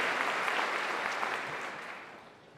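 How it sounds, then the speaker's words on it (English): Applause from a graduation crowd at an honorary degree ceremony, a broad, moderately loud clatter of many hands that gradually fades out toward the end. "Let's have a round of applause for all."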